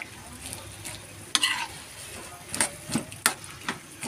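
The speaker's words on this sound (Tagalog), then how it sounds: "At haluin natin." String beans and ground pork being stirred together in a frying pan, a soft scraping and clinking of a utensil in several short strokes over a low sizzle, fairly close and with no talk.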